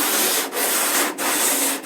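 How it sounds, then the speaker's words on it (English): A DA sander works over filler on a catamaran hull, giving a steady abrasive rubbing hiss in three passes separated by brief pauses, close and loud. "Coming over with his DA sander and compressor, sanding was now a lot faster and cleaner."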